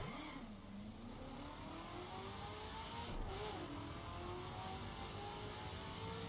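A V8 Aston Martin Vantage in The Crew revs up and accelerates hard at the start of a Pikes Peak race, its engine note climbing steadily and sustained throughout, loud and close.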